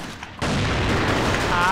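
Sniper rifle gunshots from a first-person shooter game, heard as a sudden loud burst after a brief quiet moment, followed by a sustained booming, rumbling tail, with some talk mixed in.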